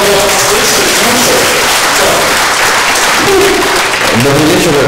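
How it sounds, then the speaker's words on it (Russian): A stage audience at a live event applauds loudly and steadily, dense clapping filling the whole stretch, with voices talking over it. "давайте сейчас громко аплодисментами"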